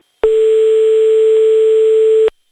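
A telephone line ringing as a radio call-in show rings a listener back: one loud, sustained, steady tone lasting about two seconds, then silence, with no voices.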